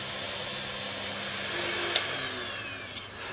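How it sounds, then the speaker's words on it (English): ULTIMA-TIG wet grinder running steadily while a tungsten electrode is ground by rotating the handle, a constant broadband whir with a brief sharper contact spike midway. "By gently rotating the handle, it grinds the tungsten."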